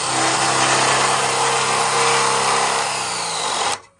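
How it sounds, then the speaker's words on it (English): A power drill whirs steadily and loudly up close, its motor holding a constant pitch for several seconds before abruptly cutting off. "I'm going to back up, turn the drill backwards"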